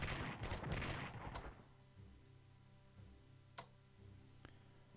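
Artillery fire in the WWII strategy game Strategic Command: World at War, Battle of Tokyo scenario: a dense run of loud, booming blasts over the first second and a half, then a low hum broken by two sharp, isolated cracks.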